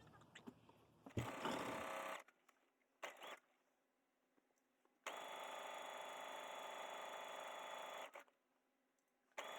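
A sewing machine topstitching down the side seam of an apron, running in two bursts of steady, close whirring with quiet pauses between them.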